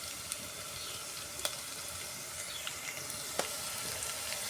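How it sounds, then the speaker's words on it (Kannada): Garlic fries in a pan for a North Karnataka-style country chicken gravy, a soft continuous sizzle with a few sharp pops and crackles scattered through it, fairly quiet and steady, no voices. "ಇದು ಚೆನ್ನಾಗಿ ಫ್ರೈ ಆಗಿಬಿಡ್ರಿ ಈ ಬೆಳ್ಳುಳ್ಳಿ ಎಲ್ಲ ಸ್ವಲ್ಪ ಗೋಲ್ಡನ್ ಕಲರ್ ಬರ್ಬೇಕು ರೀ"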